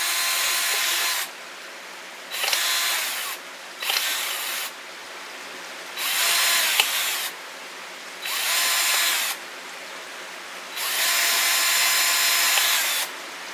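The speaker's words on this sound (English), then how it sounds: "I am going to take this 8-inch bit, and I am going to drill holes." Power drill fitted with an 8-inch bit boring holes into plastic bottles, running in six loud bursts of a few seconds each, with brief quiet gaps between them and no talking.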